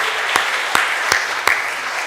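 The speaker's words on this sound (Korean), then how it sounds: "박수로 열렬히 박수하겠습니다" During a Sunday worship service, a congregation claps warmly in a thick, continuous burst, with a few sharper accents at regular intervals standing out from the steady crowd of hands.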